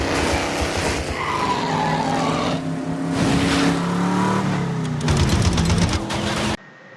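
Race cars in a prison race film roar and skid, with engines revving and tires squealing loudly and continuously close by before the sound cuts off abruptly near the end.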